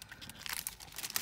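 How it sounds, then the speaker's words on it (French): Wrapping paper on a parcel crinkles and rustles close by in a short, continuous burst of soft crackling, with no voices. "Je vais enlever le papier, sinon ça va faire trop de bruit."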